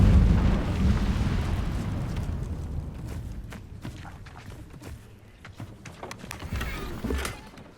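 An Incendio fire spell bursts in Hogwarts Legacy, a loud roaring whoosh of flame up front that slowly fades into crackling, with scattered small pops and clicks afterward.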